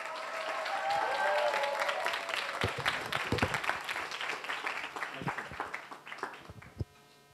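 An audience at a Korean high school academic festival applauds to welcome a presenter to the front. The clapping swells quickly, stays dense for several seconds, then thins into scattered claps and fades out.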